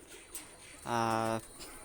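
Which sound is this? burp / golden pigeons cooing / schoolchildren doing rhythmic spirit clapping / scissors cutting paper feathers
golden pigeons cooing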